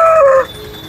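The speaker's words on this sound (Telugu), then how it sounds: "ఇక్కడ ఒక రెండు పుంజులు ఉన్నాయి" A rooster at a village poultry market in Nellore gives one loud, short crow-like call lasting under half a second. Quieter market background continues after it.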